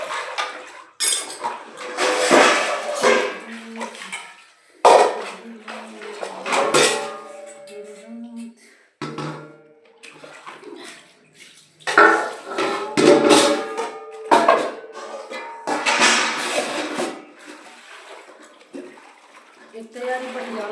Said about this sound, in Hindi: सो गाइस हमने बर्तन धुल लिया और आप सब देख सकते हो इतना सारा बर्तन है